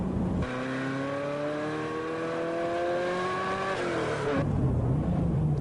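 Revs from a 1989 Ferrari F40 climb steeply and steadily on a wet track as the rear wheels spin, pitch rising in one long pull, then dropping sharply at a shift before building again, loud and close.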